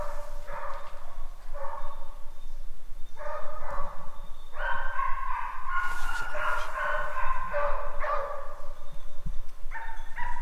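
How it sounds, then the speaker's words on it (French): Hunting dogs bark and bay in repeated ragged bursts during a wild boar hunt in the Haute-Marne countryside, several dogs at a middle distance, with a steady outdoor hiss underneath. "Ils écoutent les chiens."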